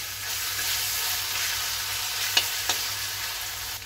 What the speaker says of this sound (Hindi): तो इसके लिए मैं चिकन को बॉईल नहीं किया, ऐसे ही इसको फ्राई कर रहा हूँ।